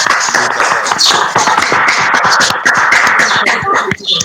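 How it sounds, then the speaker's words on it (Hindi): A class of students applauds a classmate's presentation during a school video conference, with dense, steady clapping that carries on for about four seconds before thinning out. "उसके लिए तो एक बार जोरदार तालियां हो जाए"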